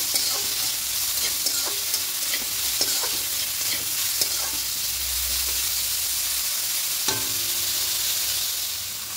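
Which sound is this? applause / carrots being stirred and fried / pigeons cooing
carrots being stirred and fried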